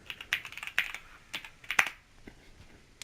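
Keys on a computer keyboard are typed in short, irregular bursts of crisp clicks while a streaming setup is configured, then the tapping thins out and fades.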